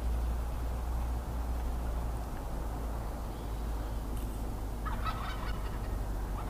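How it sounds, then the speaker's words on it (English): Wild turkeys gobble during a morning scout for longbeards, several birds sounding off at a distance over steady low outdoor rumble and background noise, with one brief burst of calls standing out near the end. "Yep, I'm surrounded by turkeys."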